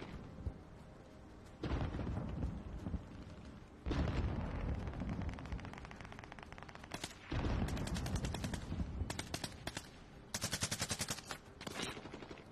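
Video game gunfire comes in heavy, loud bursts of rapid automatic shots, with short pauses between volleys and a dense, booming texture throughout.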